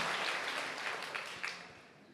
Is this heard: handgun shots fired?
no